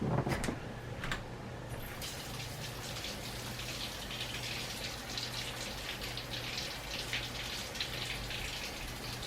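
Water splashes and patters onto dry material in a steady wet hiss for several seconds, with a few sharper spatters at the start and no talking.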